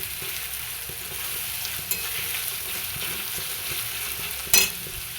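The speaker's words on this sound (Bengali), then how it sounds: "এবার আমি পেঁয়াজটা দিয়ে দিয়েছি পেঁয়াজটা একটু লাল করে ভেজে নেব" Chopped onions sizzle steadily in hot oil while frying for a mutton offal curry, a constant broadband hiss with a couple of brief louder scrapes of stirring.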